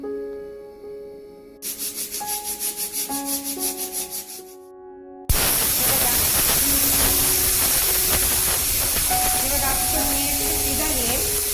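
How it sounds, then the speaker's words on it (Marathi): A pressure cooker whistle on a full gas flame bursts into a loud, continuous steam hiss that keeps going to the end, with a soft melody playing beneath it. "ह्या कुकरची फक्त 1च शिट्टी करायची"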